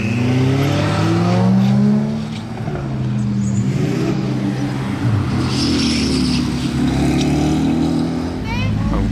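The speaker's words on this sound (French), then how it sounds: "On a encore des Ferrari qui arrivent." Ferrari sports cars arrive along a street in Monaco, their engines rumbling loud and close with a rising rev, while people talk nearby throughout.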